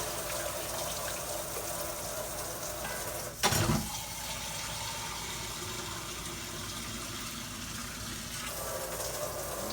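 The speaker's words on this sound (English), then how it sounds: "I'm gonna start adding my water to this" Steady running water pours continuously into a cooking pot, with a brief clunk partway through, the flow hissing on evenly.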